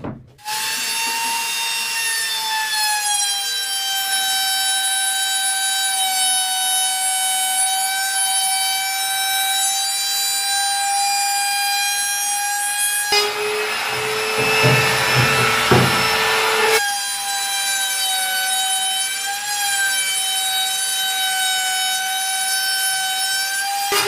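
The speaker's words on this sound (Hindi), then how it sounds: "आप ट्रिमर मशीन का यूज कर सकते हैं।" A handheld electric wood trimmer whines at a steady high pitch while cutting mica laminate flush against plywood, with a louder, rougher burst of cutting in the middle, close and continuous.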